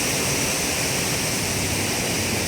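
A waterfall at an outdoor scenic spot roars as a dense, steady, even rush of falling water, loud and unbroken with no voices.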